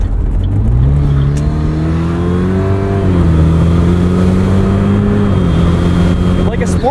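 A 2008 Saturn Sky Redline's engine is held in low gear, its loud droning note climbing in steps and then holding steady at high revs from inside the car, with occasional talk underneath.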